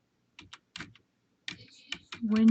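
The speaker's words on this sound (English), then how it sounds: "And then I'm going to type in" A few distinct computer keyboard keystrokes in short close bursts separated by silence, ending as a voice begins speaking.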